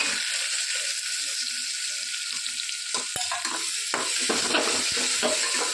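Tomato and green onion curry with garlic-chili masala being stirred in a hot pan, a continuous sizzle with scraping spoon strokes and occasional clinks, close and alone.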